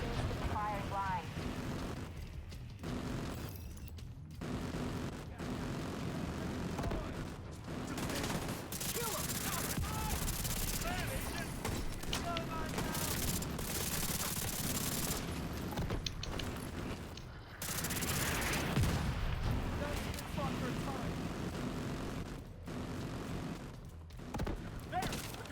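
Sustained gunfire in a shooter video game, with bursts of rapid shots and loud volleys recurring through the stretch amid engine and wind-like noise, while a voice talks over parts of it.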